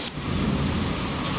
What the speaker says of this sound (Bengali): কি গো বৃষ্টি হচ্ছে তো